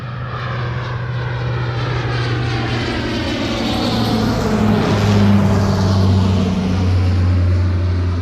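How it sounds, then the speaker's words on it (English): A floatplane's propeller engine drones steadily and fairly loud as it taxis out onto a lake, its pitch shifting slightly as it moves, with no voices. "So of course the plane first has to taxi way out onto the lake."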